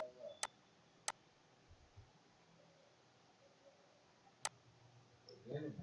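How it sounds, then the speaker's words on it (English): Three sharp, isolated clicks of a computer mouse while working on a Google Form, two close together early and one a few seconds later, over a quiet room hum. "So I can simply click on my form"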